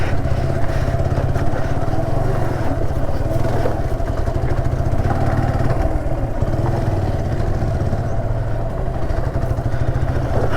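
A motorcycle engine drones steadily and loudly while climbing an off-road mountain path, with constant mechanical clatter and no pause over the whole stretch.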